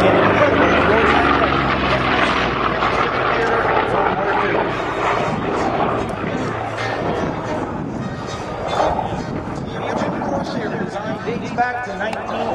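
A vintage Corsair single-engine fighter with a Pratt & Whitney radial engine drones and roars at an airshow, its propeller noise steady and loud under an announcer's voice throughout.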